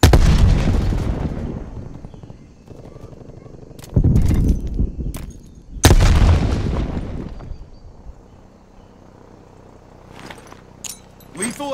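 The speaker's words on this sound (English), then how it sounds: "Throwing frag." Frag grenade blasts and gunfire in Call of Duty: Black Ops Cold War multiplayer, with loud booming explosions that decay slowly, sharp cracks between them and a game voice talking.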